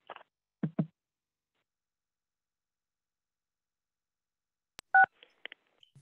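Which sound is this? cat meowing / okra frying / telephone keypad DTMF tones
telephone keypad DTMF tones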